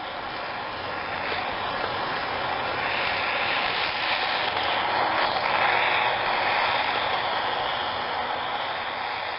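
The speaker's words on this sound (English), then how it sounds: "You can hear it percolating." Carburetor from a Craftsman 21-inch 5 hp two-cycle snowblower, percolating while heated with a torch during cleaning, heard as a steady hissing, roaring rush that swells slightly in the middle and stays close and continuous.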